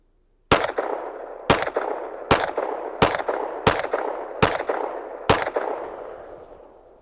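Seven sharp gunshots ring out about one second apart, each a loud, crisp crack with a short decaying tail, fired with a quick trigger reset during the recoil of each shot on a shooting range.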